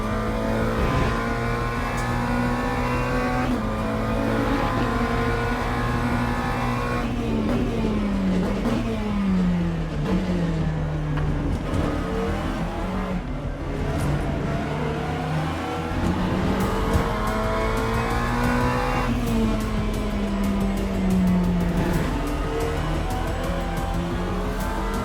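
Race cars in Le Mans Ultimate at Fuji roar loudly and continuously, with engine pitch rising and falling through shifts as faster multi-class cars close in from behind.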